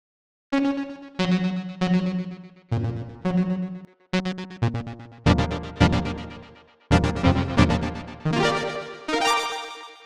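Synthesizer chords and notes played in a series of sustained hits, each tail echoing and repeating through a delay effect, fairly loud with no voices.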